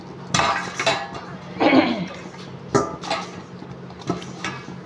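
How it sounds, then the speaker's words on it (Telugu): Chapati-style dough gets mixed with a little oil in a bowl, making soft squelching, a few knocks and clinks against the bowl in short bursts, close and quiet, with no talk. "కొంచెం ఆయిల్ పోసుకొని కలిపేసుకుందాము."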